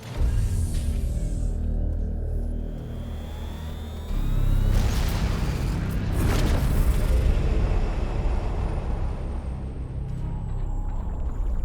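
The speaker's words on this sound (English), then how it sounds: "Unstable energies of the warp storm have caused an explosion inside the Edict." A deep rumbling explosion rolls through a ship's interior in the Warhammer 40k: Chaos Gate Daemonhunters game, a sustained low roar with a heavier burst midway, loud and close with no voices.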